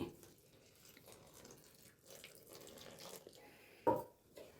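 Tap water runs faintly into a bowl while maida dough for coconut poli is being made, with a soft steady trickle and a brief louder splash near the end.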